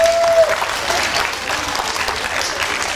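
An audience at a school art-school fashion show applauds steadily for a model, a dense continuous wash of many hands clapping in a large room without any talking.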